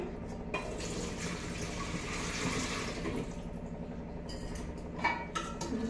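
Water pours from a pot into a cleaned cooking vessel, a steady splashing, gurgling stream lasting several seconds before tapering into a few closer trickles and drips, with no talk over it.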